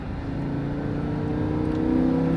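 A Lamborghini Huracan on a race track under throttle, its engine note a steady, rising drone that grows slightly louder as it accelerates, with no talking.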